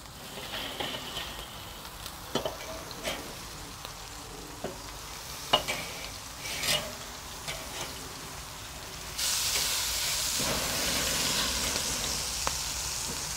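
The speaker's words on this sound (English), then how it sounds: "So let them sear a little bit on this side" Burger patties sear on a Weber Performer grill, a steady low sizzle with scattered crackles and pops, swelling into a louder, denser hiss in the final few seconds; no one speaks.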